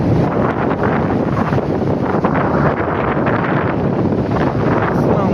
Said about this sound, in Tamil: நல்லா செம்ம காற்றடிக்குதுங்க.